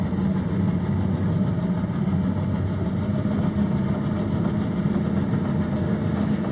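A steady low mechanical hum and drone from a solar boat's electric motor running at low speed, continuous and even throughout.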